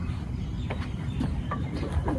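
Pigeons feeding on scattered grain in a rural desert village in the morning give soft, intermittent coos and calls over a low, constant background rumble.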